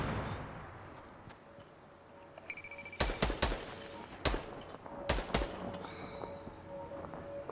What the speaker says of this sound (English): Do you hear gunshots?